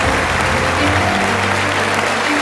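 An audience claps and cheers steadily at an awards ceremony, a dense, loud wash of applause filling the whole moment without a break.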